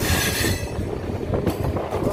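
A local MEMU train on the Katwa–Ahmedpur line pulls away on the rails, giving a loud, steady rumble of wheels and carriages close by with faint metallic squeal on top.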